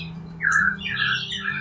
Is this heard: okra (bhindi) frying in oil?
no